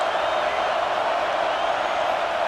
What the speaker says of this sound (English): This crowd going to try to make life miserable for these guys.